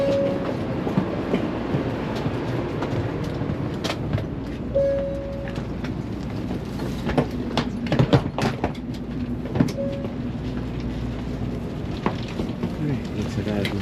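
A Shinkansen bullet train at a Tokyo station platform, with a steady rumble of the arriving train and occasional clanks, beeps and a chime amid station bustle and people talking nearby.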